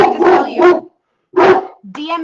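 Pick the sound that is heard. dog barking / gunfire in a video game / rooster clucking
dog barking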